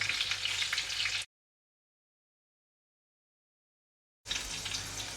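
Close, steady sizzling of tofu frying in hot oil, cutting out to total silence for about three seconds before resuming.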